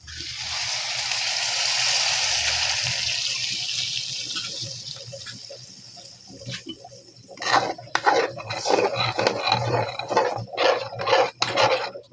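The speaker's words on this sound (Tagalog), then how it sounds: "Okay, maglagay na tayo ng tubig." Tap water gushes steadily into a cooking pot of seasoned chicken for several seconds, then fades into scattered clinks and knocks as the pot is handled nearby.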